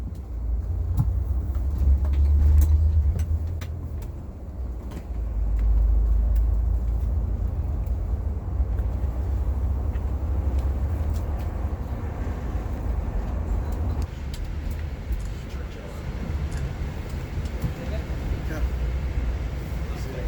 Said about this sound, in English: So we keep driving along the shore all the way to the Canadians next.